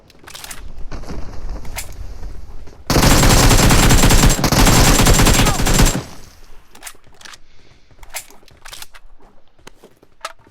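Gunfire from the video game PUBG: a dense automatic burst of about three seconds sits between scattered single shots and sharp clicks, loud and close, with a voice now and then.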